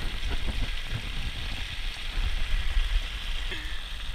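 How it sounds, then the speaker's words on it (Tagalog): Steady, dense rain patter with a broad hiss over low rumbling, continuous and fairly close, no voices. "Eto, malakas pa yung ulan."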